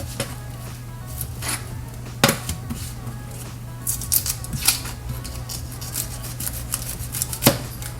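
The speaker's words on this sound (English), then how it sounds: "So I'll use it to cut this onion right here." A hand-forged Viking boning knife cuts through an onion on a board, making sparse sharp knocks and crisp slicing taps at irregular intervals over a low steady hum, with no talking.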